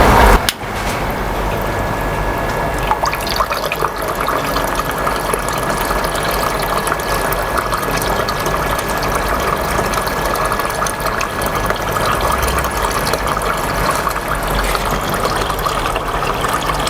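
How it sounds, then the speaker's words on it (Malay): A submerged water pump in a lobster tank runs with a steady wet churning hum and a dense hiss of moving water, continuous and fairly loud after a brief switch-on at the start, with no talk. "Sebelum kita nak onkan pump ni, kita kena pastikan pump ni dah terendam dalam air, dalam tangki, baru kita onkan."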